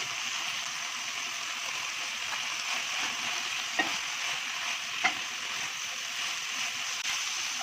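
Cabbage and capsicum frying in a pan for tandoori pasta, a steady broadband sizzle running throughout with two brief sharper crackles or utensil scrapes along the way, no voices present.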